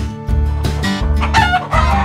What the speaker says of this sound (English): There's a chicken up there that needs saving.